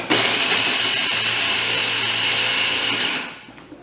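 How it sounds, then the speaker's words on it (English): A mini food processor whirs loudly and steadily while chopping garlic cloves for a dipping sauce, the high motor buzz holding for about three seconds before winding down to a stop. "Start making the dipping sauce for our mini pancakes using our mini food processor"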